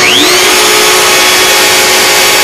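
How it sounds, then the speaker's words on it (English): A CNC machine spindle spins up and runs steadily alongside a shop vacuum, a loud continuous broadband whine with a rising tone at the start that settles into a sustained hum. "there's my spindle"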